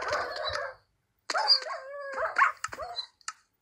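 Minecraft wolves bark and whimper in quick, short bursts, several yips and barks clustered together with brief silent gaps, clear and close.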